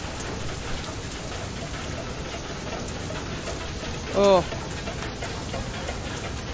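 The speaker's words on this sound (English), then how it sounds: "Oh, hail is not our friend." A hail storm pelts down in the video game Far: Lone Sails, a constant rattling patter of moderate loudness, with a brief exclamation partway through.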